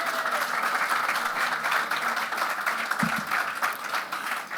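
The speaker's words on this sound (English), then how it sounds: "Let's give them a round of applause." Steady crowd applause fills an event honoring a team during a Barbados Green Rising ceremony, a sustained mass of clapping with faint tonal sounds mixed in and a brief low thump near the end.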